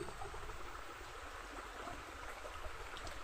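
A river flows steadily with a soft, even rush of water, constant and fairly faint throughout, no voices.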